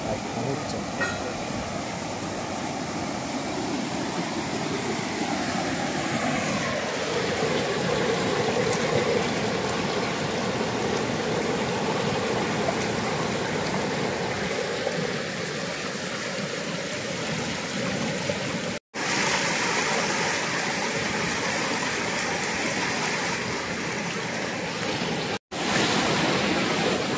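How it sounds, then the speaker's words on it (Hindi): Chuli river water flowing near Bedakhadar village in Poshina tehsil, a steady broadband rush that runs throughout, with a voice talking over it and two brief dropouts. "आज हम हैं चूली नदी पर"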